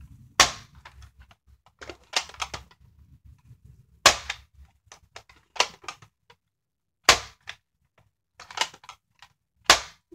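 A Nerf Zombiestrike Crossfire bow fires foam darts, sharp snapping shots with mechanical clicks and clatter in between, close by, spaced by several seconds of quiet handling.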